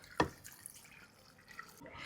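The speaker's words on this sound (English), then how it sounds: "Add some water on top." Water poured from a container over chicken, parsley, curry leaves, ginger and coriander in a cooking pot, heard as one short splash followed by faint trickling and dripping, close and quiet.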